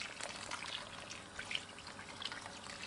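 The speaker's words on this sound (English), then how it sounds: "So we're going to add a good bit of water." Water poured or trickling into a slow cooker over a beef roast and vegetables, a faint, steady splashing wash with a few brief brighter drips, heard alone.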